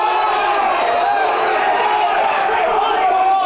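The crowd at a Gaelic football club match between Ennistymon and Doonbeg in 2020 raises a steady, loud roar of shouting and yelling that holds at an even level throughout.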